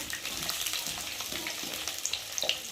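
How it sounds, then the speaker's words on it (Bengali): Potatoes fry in a pan with a faint, soft sizzle and a few light crackles, quiet and fairly even throughout. "দেখো আলুটা এবার ভালো করে ভেজে নেব"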